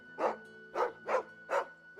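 A dog in the Final Fantasy 16 video game gives four evenly spaced, whining barks close up over a faint steady tone.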